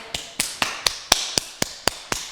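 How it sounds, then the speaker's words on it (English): Hands clap together during a rebounder workout, nine sharp, evenly spaced claps in a steady rhythm about a quarter second apart, close and crisp with no speech. "Clap your hands together."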